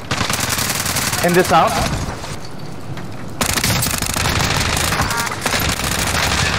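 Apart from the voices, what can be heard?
gunfire in Call of Duty Warzone video game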